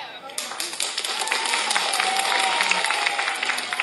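Audience clapping and cheering at a lively Filipino stage event, a dense steady patter of applause with shouts mixed in, under a host's voice.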